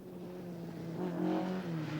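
A 1981 rally car on a bitumen special stage at the Rally of Canberra, its engine droning steadily and swelling as it revs and passes by, moderately loud with no talk.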